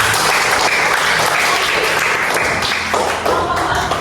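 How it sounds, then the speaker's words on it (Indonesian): Sustained applause from a church gathering, a dense wash of many hands clapping steadily and fairly close for about four seconds, easing slightly near the end. "kasih tepuk tangan buat kita"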